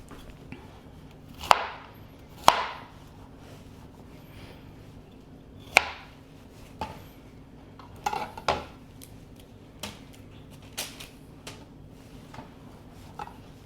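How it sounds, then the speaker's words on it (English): Vegetables such as broccoli and cauliflower being chopped into bite-sized pieces with a knife on a board: sharp, irregular cuts spaced a second or so apart, close and fairly quiet, with no talking. "I want to chop my veggies into bite-sized pieces"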